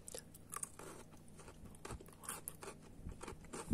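Crunchy Biskolata chocolate stick with puffed rice being bitten and chewed close up, a steady run of dry crackling crunches with small bites and scrapes, no talking.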